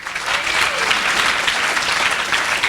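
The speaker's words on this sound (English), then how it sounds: "we'll get another round of applause for them real quick" An audience claps in sustained, lively applause, many hands at once, loud and close.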